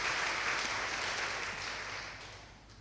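A church congregation applauds during a Sunday service, a soft, distant wash of clapping that fades gradually over a few seconds.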